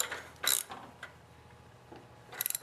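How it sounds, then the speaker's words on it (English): Ratchet tightening T45 Torx bolts on a lawn tractor's overhead-valve engine during head gasket replacement: a short burst of clicking, a few faint ticks, then a quick run of rapid ratcheting clicks, close and fairly quiet, with no talking. "now I'll just tighten up both bolts"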